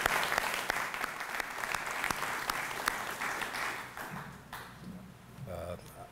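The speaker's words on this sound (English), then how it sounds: "just give them a round of applause" Audience applause at a fire services and heroes awards event, a dense patter of many hands clapping steadily for several seconds before thinning out and fading, with faint room noise near the end.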